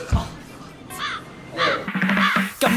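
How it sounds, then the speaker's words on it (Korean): A crow flies past and caws several times in quick succession, loud and close, while people talk nearby during an indoor photo shoot. "까마귀 지나가"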